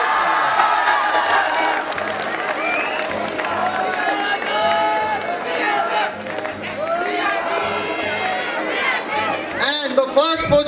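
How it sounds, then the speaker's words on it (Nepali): An audience at a college competition prize presentation claps and cheers, with crowd noise and excited children's voices. The clapping is loud and sustained and builds toward a burst of shouting at the end. "ताली बजाउन हो केटाकेटी"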